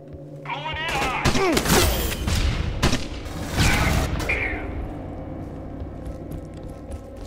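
Smart gun laying down covering fire in Aliens: Colonial Marines, loud bursts of rapid gunfire and booming impacts in the first half, then fading into a lingering rumble and distant chatter.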